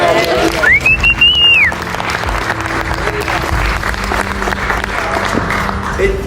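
A small group claps in a steady patter while a whistle-like tone rises and falls early on, with voices mixed in.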